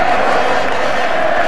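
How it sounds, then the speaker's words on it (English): Stadium crowd at the 1985 Rugby League Challenge Cup final at Wembley, a steady roar of applause and cheering that fills the whole stretch without a break. "tremendous appreciation from the crowd"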